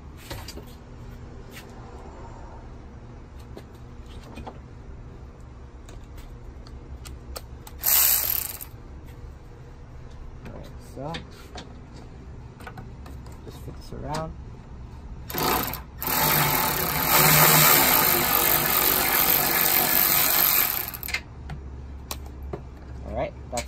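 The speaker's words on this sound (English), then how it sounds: "we're just going to use the Milwaukee to make this go just a little bit faster" A Milwaukee power tool whirs and ratchets in short, loud bursts while loosening a strut nut on an 8th-gen 2006–2011 Honda Civic, with a quieter mechanical hum and occasional clicks between runs.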